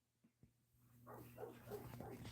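Dogs bark and whimper in a short, fairly quiet burst, a couple of faint yips first, then a rising run of mixed barks and whines with no voices.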